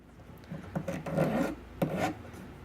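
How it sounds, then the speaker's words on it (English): Hand file rasping burrs off metal blanks, a series of gritty back-and-forth strokes at close range, each stroke a rough scraping burst with short pauses between. "it's easier to remove the burrs as you file in toward the piece."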